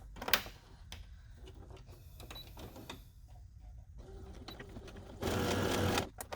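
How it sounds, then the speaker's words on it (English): A sewing machine stitches a half-inch seam in fabric for a costume, with short whirring runs and clicks up close, then a louder continuous burst of stitching near the end. "now we're gonna stitch right through here at a 1/2 inch seam allowance"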